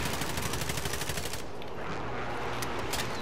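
Gunfire in Call of Duty: Modern Warfare: a dense, loud burst of rapid shots for about a second and a half, then sporadic cracks over a continuous roar of battle noise.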